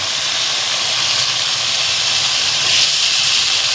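Half a kilo of machine-minced beef hits hot ghee in a pot, producing a loud, steady, close sizzling hiss throughout.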